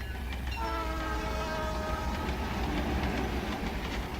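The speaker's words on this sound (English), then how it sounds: "Suddenly, Jordan heard the familiar whistle of an oncoming Sioux Line freight train" A Soo Line freight train's whistle sounds in a long sustained blast over the steady rumble and clatter of rolling cars, loud and close.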